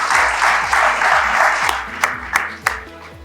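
A crowd at a secondary school graduation applauds the most improved students. The clapping is loud and sustained from a nearby audience, with a few sharp individual claps near the end and music underneath.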